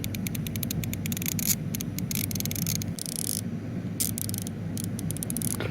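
Clicking of a SUZUME torque wrench ratchet head with fine-toothed gears, a rapid run of small close clicks sounding in bursts over a steady low hum.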